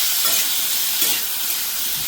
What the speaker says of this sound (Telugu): ఇప్పుడు ఒకసారి కలిపేసుకొని